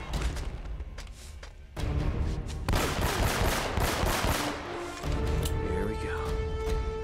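Rapid bursts of submachine gun fire from the video game Uncharted crackle loudly in a dense, sustained volley with booming impacts, over background game sounds.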